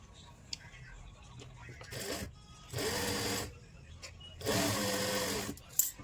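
Sewing machine stitching a pleat on a lined kurti, with two loud running bursts of about a second each after a shorter start, and quiet handling noise between them.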